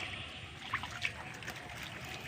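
Rainwater trickling and dribbling after a rain shower, a faint, steady liquid flow with a couple of soft splashy drips, heard alone without voices.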